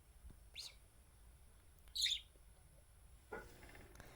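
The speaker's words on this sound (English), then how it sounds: "Pretty bird, Bobo." A pet budgie parakeet gives a few short, high chirps, spaced apart, against a quiet indoor background. One chirp in the middle is the loudest, and no one talks.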